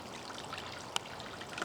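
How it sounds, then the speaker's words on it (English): Water pours from a single garden hose into a backyard garden waterfall, a faint, steady trickling and splashing flow with a couple of small brief splashes, heard alone without talk. "Just one hose spraying out, and it works okay."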